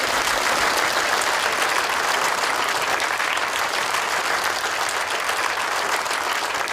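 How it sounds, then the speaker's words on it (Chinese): Steady, dense applause from a banquet crowd welcoming the president of Shenlong Group on stage at the company's 20th anniversary reception, even and unbroken throughout with no voices. "掌声欢迎顾总"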